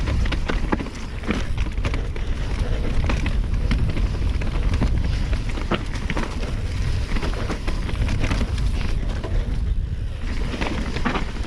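Heavy wind buffeting the microphone while mountain biking over mixed terrain on a Nukeproof Mega 290, a loud continuous rumble and roar with gusty surges, no voices.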